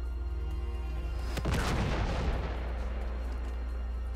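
Gunfire in the video game Uncharted 3: Drake's Deception, a single heavy boom with a long rumbling decay over a steady low game background hum, no talking.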